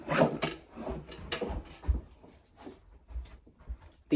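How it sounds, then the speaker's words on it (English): Little plastic pull-out drawers are handled, giving a run of close scraping slides, rubs and light knocks in an irregular rhythm. "2 of these little pull-out drawers."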